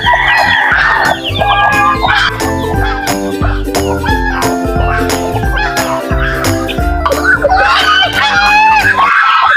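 Native chickens gather at feeding time, a loud, busy flock of overlapping clucks, squawks and crows close by, with the calls running continuously.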